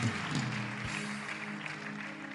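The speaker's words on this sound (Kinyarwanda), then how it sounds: "Let's applaud for God one more time." A church congregation applauds together in a steady, dense wash of clapping that fills the space, with a faint voice briefly audible beneath.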